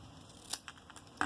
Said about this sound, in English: Just cut this at an angle,